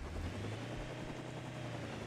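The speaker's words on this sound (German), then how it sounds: "Unser Helikopter kommt hier." A helicopter in the survival video game Rust approaching, a steady low droning rotor rumble with a hiss over it, continuous and even in level, no voices.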